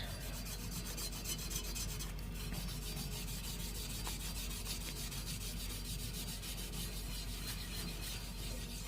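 Steady, continuous rubbing to remove rust from a high-speed steel woodturning tool on a lathe, a close, even rasping scrape that holds at a constant level without pauses.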